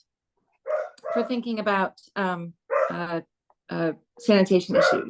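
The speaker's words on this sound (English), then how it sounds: "Sorry about the dog." A dog barks and yips several times in a room, loud and close, mixed in with a person lecturing whose talk overlaps the barks.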